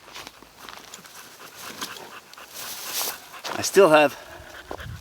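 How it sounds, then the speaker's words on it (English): A dog on a hiking trail pants and gives a brief whimper near the end, fairly close, with a person talking over it and footsteps in the background. "get this poor dog some water"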